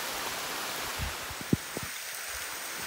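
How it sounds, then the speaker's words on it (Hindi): Heavy monsoon rain falls steadily on a forest trek near Naikwadi waterfall in Kolhapur, a soft, continuous hiss with a few faint drips and knocks close by. "ओ बारिश तेज हो रही है"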